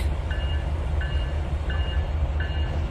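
Train rolling along track in the Trainz 2019 railway simulator, a steady low rumble with faint repeating higher-pitched clicks about every second and a half, continuous and even, no talking.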